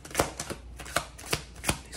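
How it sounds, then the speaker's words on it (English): A deck of tarot cards is riffled and shuffled in a series of crisp, papery bursts spaced roughly every third of a second, close up and fairly quiet, with no talking. "These cards are so hard to shuffle."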